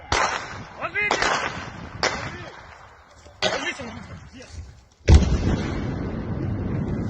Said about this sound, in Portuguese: mas deu para ouvir a explosão